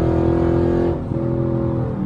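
A 2012 Dodge Charger SRT8 accelerates at full throttle, its loud V8 roaring from inside the car and shifting pitch as it pulls hard.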